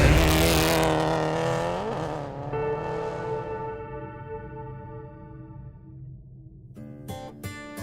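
A rally car on a Pacific Forest Rally stage near Merritt, Canada, roars past close by, its engine note sweeping down and fading into the distance before sharp revs return near the end.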